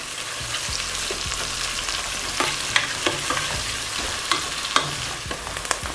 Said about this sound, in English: Going with our onions. We're looking for a nice golden brown color on those onions.